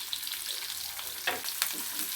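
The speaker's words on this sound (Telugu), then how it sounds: "స్టవ్ని 2 స్పూన్స్ ఆయిల్ వేసుకున్నాను. జీలకర్ర సాజీరా స్పూన్ వేసుకున్నాను. పచ్చిమిర్చి 2 కట్ చేసి పెట్టుకున్న వేసుకున్నాను." Green chillies, cumin and curry leaves fry in a couple of spoons of hot oil, giving a constant near sizzle with a few sharper crackles and stirring scrapes partway through.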